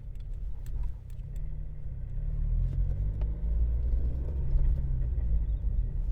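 A car engine hums low and steady after a gear change, its rumble settling and holding smooth with faint rattles on top.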